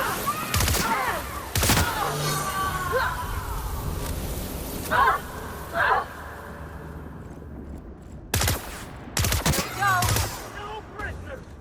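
Bursts of gunfire in The Outer Worlds: Spacer's Choice Edition combat, with loud volleys and clustered shots at intervals, the heaviest near the start and end, over a busy battle backdrop with shouted voices.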